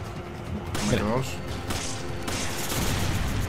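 Gunfire in the Resident Evil 5 Remastered video game, a dense burst of game shots and blasts over a layer of game music and effects, with a person talking over it.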